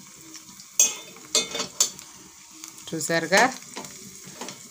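Mustard seeds and other tempering spices sizzle and crackle in hot oil in a pan in a village kitchen, with sharp popping bursts between quieter frying, under a voice speaking briefly.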